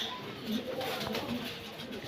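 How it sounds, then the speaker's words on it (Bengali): Two female pigeons coo in low, soft repeated calls over a steady noisy background, with a voice faintly present. "দুটাই ফিমেল কবুতর"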